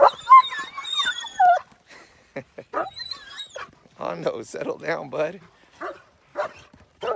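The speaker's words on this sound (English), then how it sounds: "Here come my dogs." Dogs whimper and yip near a man as they come up to him outdoors on a farm, with short high whines and a few barks, interspersed with his talking to them.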